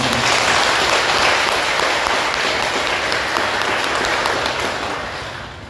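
Loud, dense applause from an audience at a Buddhist lecture hall, a continuous wash of many hands clapping that tapers off toward the end.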